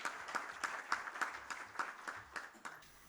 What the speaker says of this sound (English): Everyone, a huge round of applause for the lady, please.